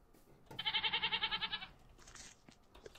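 A goat in the video game Minecraft lets out one loud, wavering bleat of about a second, with a pulsing vibrato, followed by quieter scattered sounds.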